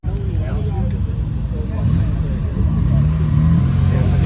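A car with a straight exhaust revs at a car meet, giving a loud, continuous low rumble that swells toward the end, with people talking over it.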